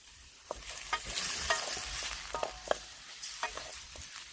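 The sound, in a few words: pork stir frying in a pan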